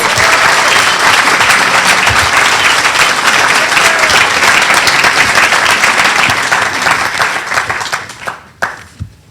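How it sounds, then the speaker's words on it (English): Loud, dense applause from a large crowd, sustained for several seconds before tapering off into a few scattered claps. "Would you just please give Elaine another round of applause?"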